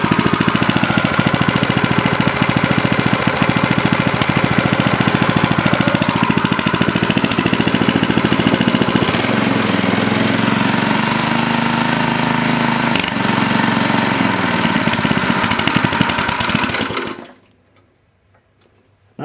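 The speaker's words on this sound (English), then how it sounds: "it's running on its own power. Not bad for a little Harbor Freight motor," A small Harbor Freight engine on an Ariens tiller runs steadily on its own power, a loud continuous chugging drone with fast ticking firing beats, then cuts out abruptly near the end into silence.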